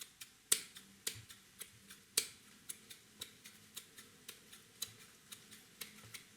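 Kitchen scissors snip through raw chicken fillet, cutting it into pieces with a steady series of sharp, quiet clicks about every half second, close up and with no one speaking.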